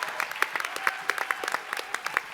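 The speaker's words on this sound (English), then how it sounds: "Okay, a round of applause," An audience at a student ambassadors' sports initiative pitch gives a round of applause, many hands clapping in a dense, crackling burst that carries on steadily for a couple of seconds.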